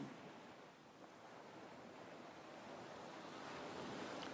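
Ocean surf washes in a soft, continuous rush with wind noise, faint and distant, gradually growing slightly louder, no voices.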